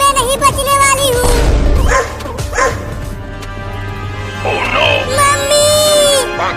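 Cartoon dog barking and yipping, several loud sharp barks at close range with whimpering in between, mixed with a voice.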